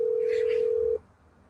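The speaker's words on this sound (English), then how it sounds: "Let's see if Yoel picks his phone up." An outgoing telephone call rings with a steady, loud tone that stops after about a second, leaving quiet background noise.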